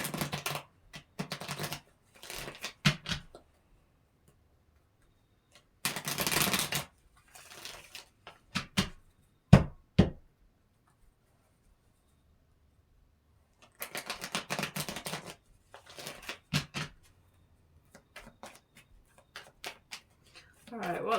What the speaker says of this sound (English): let's shuffle them good then.